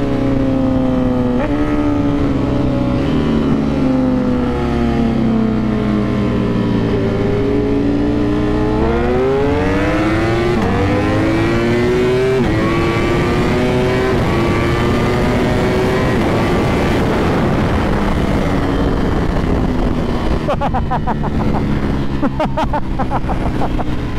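A Ducati Panigale V4 R motorcycle pulls hard from first gear, its loud engine note climbing in pitch through gears with brief dips at shifts, close and sustained over the whole stretch.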